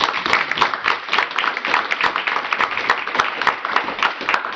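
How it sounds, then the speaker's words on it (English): A council meeting room bursts into applause for a young boy, dense overlapping claps from a crowd of many people, loud and steady throughout with sharp individual hand strikes standing out close by. "Could I get an applause for this young man?"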